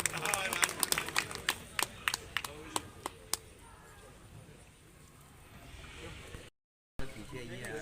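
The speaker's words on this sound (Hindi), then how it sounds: "तो भगाइए और जोर से तालियां बजाइए" An audience at a public event at the Anjani Lal temple in Biaora, with a state minister present, claps in a burst of sharp, scattered claps that thin out after about three seconds, leaving quiet room noise.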